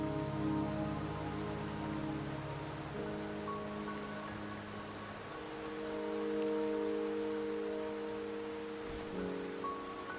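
Steady rain falling in the video game Wuthering Waves, a continuous close patter across the whole stretch with a soft musical score playing underneath.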